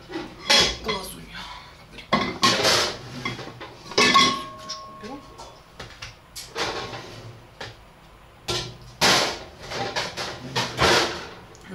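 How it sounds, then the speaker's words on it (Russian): A frying pan, dishes and cutlery clatter in a home kitchen while fried eggs are made, with repeated metallic clinks, scrapes and bumps in uneven bursts and someone talking in between. "сейчас сделаем Мишу глазунью"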